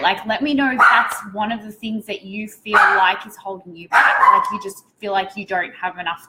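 A pet dog yipping and barking repeatedly in short sharp bursts indoors, close and fairly loud, mixed in with someone talking steadily.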